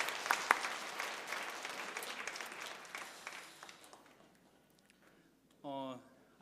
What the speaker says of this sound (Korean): 고생한 우리 학생들의 박수 한번 부탁드리겠습니다